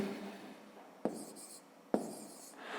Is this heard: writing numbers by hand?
yes